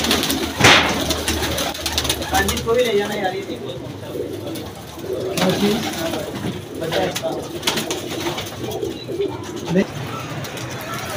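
Pigeons coo in a busy, continuous chorus with wingbeats and rustling, while someone talks over the flock.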